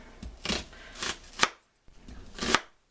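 A knife slices through a peeled vegetable on a cutting board, its root end left on, during vegan yaki soba prep: a few crisp, close chopping strokes with a brief pause in between.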